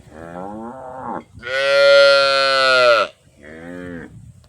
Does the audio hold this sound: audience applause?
no